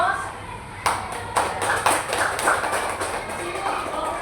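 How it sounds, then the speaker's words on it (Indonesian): A classroom group claps in response to a presentation, a burst of bright hand claps starting abruptly and continuing in an uneven patter of slaps for several seconds at close range. "Ya, kita aplaus."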